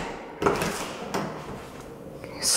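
A house's screen door to the outside is worked open, with a couple of light rattling clacks of the frame close by and a brief hiss at the end.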